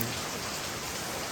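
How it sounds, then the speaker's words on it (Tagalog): Steady rain from a typhoon falls in the countryside, a dense even hiss of drops with no pauses or other sounds. "yung tunog ng ulan"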